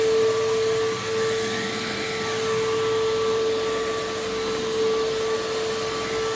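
A PowerForce vacuum cleaner runs steadily at close range, giving a constant motor whine over a broad airy rush, with no talking.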